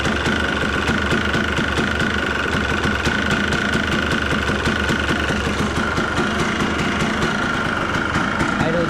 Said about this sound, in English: idle's good for not being turned on in almost 2 weeks